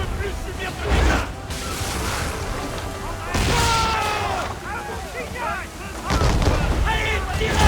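Ship cannons fire in Assassin's Creed 3, heavy booms recurring amid naval battle noise, rushing sea and creaking, while French voices talk over the action.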